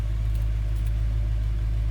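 A 1951 Ford F1 truck engine, started by push button, idles steadily with a deep, close, constant low rumble and a faint clicky rattle on top.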